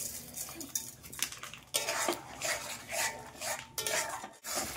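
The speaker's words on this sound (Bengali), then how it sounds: "বন্ধুরা এরকম নেড়ে চেড়ে একটু নিতে হবে" Spatula scraping and clattering against a pan as fried chicken pieces are stirred together with Kashmiri chili powder and sugar for restaurant-style chilli chicken, in an irregular, moderately loud run of scrapes and knocks.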